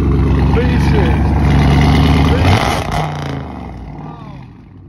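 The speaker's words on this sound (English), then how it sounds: "Little six banger. Misfiring like a motherfucker too." Dodge Challenger V6 engine idling with a rough, uneven misfire, a loud close rumble that holds steady then drops off near the end, with voices talking over it.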